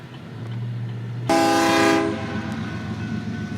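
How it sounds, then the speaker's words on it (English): CPKC freight train led by two CP GEVO locomotives sounds a loud horn blast lasting under a second, over a steady rumble of the passing train that continues after the horn stops. "Here we have our first CPKC train of the day. It was led by 2 CP Gevos"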